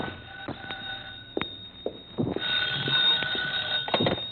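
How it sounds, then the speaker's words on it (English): An old apartment telephone rings in a vintage radio detective drama, a metallic bell trilling in repeated bursts, thin and slightly distant in the lo-fi recording, with no talking over it. "My phone was ringing when I got there."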